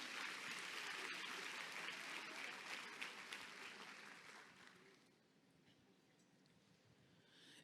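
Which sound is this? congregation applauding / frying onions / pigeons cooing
congregation applauding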